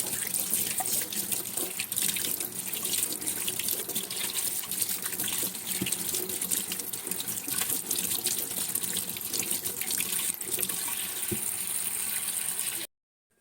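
Tap water gushes steadily into a sink while pickled turnips are washed under the stream, a continuous close splashing that stops abruptly at the end.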